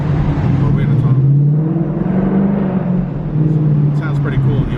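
A 700 hp 2018 Ford Mustang GT rumbles through a tunnel, its deep exhaust droning loud and close and echoing off the walls, rising and falling gently while a person talks over it.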